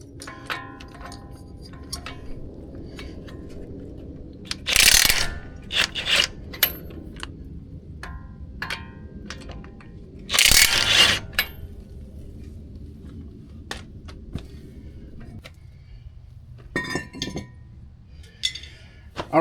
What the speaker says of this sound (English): I'm going to take the two 21mm bolts out, pull this whole caliper bracket off as an assembly